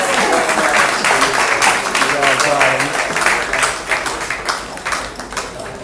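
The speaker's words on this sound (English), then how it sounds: "applause for Patricia and Mike" Applause from a dinner audience for a married couple, steady dense clapping from many hands for about six seconds, with faint talk and clinks mixed beneath it.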